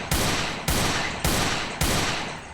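Video game gunfire landing headshots: four sharp, loud shots spaced evenly about half a second apart, each with a brief decaying tail, and no voices.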